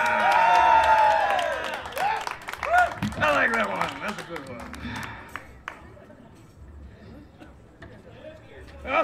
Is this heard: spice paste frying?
no